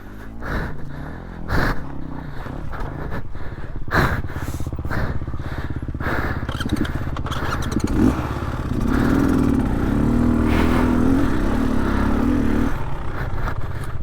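An enduro motorcycle rides off-road on a track in Australia, its engine droning steadily and then revving into a strong, rising whine, with rattles and clatter over rough ground and no voices.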